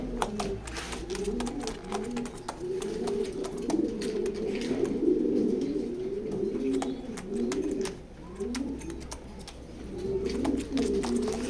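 Racing pigeons coo in a loft, a continuous overlapping murmur of soft throaty calls from several birds nearby, with scattered clicks and faint rustling throughout.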